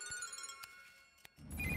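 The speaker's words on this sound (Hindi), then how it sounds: "फोन बज रहा है" A mobile phone rings in a police station scene from an Indian action film, a short electronic tone pattern with a couple of sharp clicks, then a rising rush of noise at the end.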